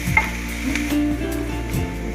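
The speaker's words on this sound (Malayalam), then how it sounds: "എണ്ണ ഒഴിച്ചു കൊടുക്കുന്നുണ്ട്. ഇനി ഇതിലേക്ക് ഉള്ളി ഇട്ട് കൊടുക്കുന്നുണ്ട്" Chopped onion fries in hot oil in a pan while preparing masala for egg bajji, giving a loud, steady close sizzle with soft stirring sounds throughout.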